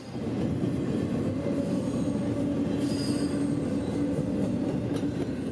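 A CSX intermodal freight train, number 647, rolls past close by in Central Georgia, a steady loud rumble of wheels and cars with a faint squeal rising briefly, continuous throughout with no talking.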